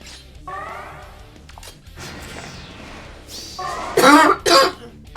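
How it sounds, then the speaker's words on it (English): Close, loud coughing: a few rough throaty coughs building to two sharp, forceful bursts near the end. "I'm sorry about the coughing."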